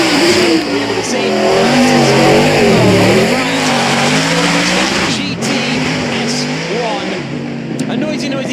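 Mid-1990s V8 race car with a 5.5-litre, 750-horsepower engine, a loud, raw engine roar rising and falling with revs over crowd and commentary noise, speech heard alongside.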